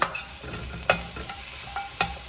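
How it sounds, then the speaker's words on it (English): Carrots sizzling in a hot pan while being stir-fried, with occasional clinks and scrapes of a utensil against the pan. "Some takeaways will deep fry the carrots, but I don't think that's very healthy, so I'm stir frying mine"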